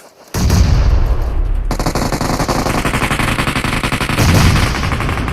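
Loud, close automatic gunfire in PUBG Mobile erupts after a brief quiet opening, long rapid bursts of shots rattling continuously with a heavier blast near the end.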